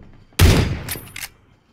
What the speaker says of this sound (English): The fuck are you shooting with?